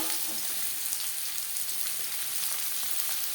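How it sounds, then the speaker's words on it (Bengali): Chopped onions hit hot oil in a wok that was just used for frying fish, giving a continuous soft sizzle and crackle with faint stirring scrapes, moderately quiet and unbroken, with no voices. "মাছ ভেজে নেওয়া কড়াইতে আবারও তেল দিয়েছি। এবার দিয়ে দেবো পেঁয়াজ কুচি।"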